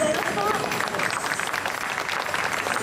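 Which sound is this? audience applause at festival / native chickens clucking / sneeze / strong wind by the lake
audience applause at festival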